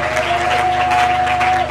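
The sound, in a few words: congregation applauding the word of God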